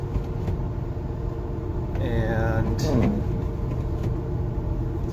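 A Chevy 3500 pickup with a snow plow rumbles along the road, a steady low engine drone under the driver's talk, with a brief squeal and a soft clunk partway through.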